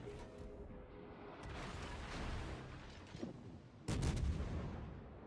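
Naval gunfire from the US light cruiser Dallas in World of Warships: a run of booming salvos over rumbling battle noise, ending in a loud close blast near the end.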